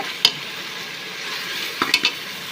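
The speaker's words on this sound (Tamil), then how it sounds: "நல்லா வதங்கி வச்சுக்கோங்க கருவேப்பில் எல்லாம் போட்டு வதக்கியிருக்கீங்க" Onions with curry leaves and a little ginger sauté in a pan for quail gravy: a soft background sizzle broken by a few sharp, close spatula scrapes and clinks.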